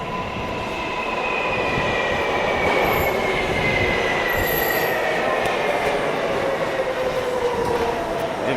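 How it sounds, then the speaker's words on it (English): A subway train to Manhattan rumbles along steadily with the drone of wheels on rails and long squealing tones rising and falling, loud and continuous, with someone briefly speaking over it. "We're in the subway, and this is you're coming with me on the ride."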